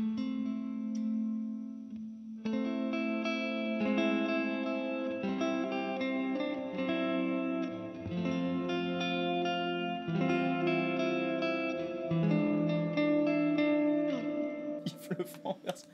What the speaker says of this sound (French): juste je vais écouter bien la queue de la reverb